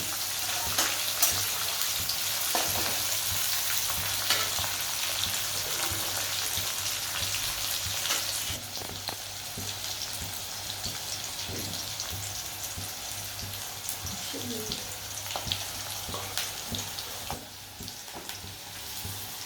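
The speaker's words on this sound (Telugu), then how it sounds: "అది వేగినంత వరకు కలుపుకోవాలి." Upma fries in a pan on a stove as it is stirred, giving a steady, dense sizzle like light rain with faint occasional scraping, close and even throughout.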